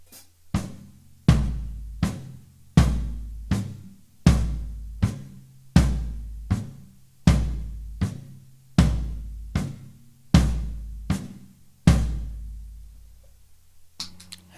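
A hand drum struck in a steady alternating pattern of deep open tones and short damped strokes, about twelve hits, close and clear with no voices.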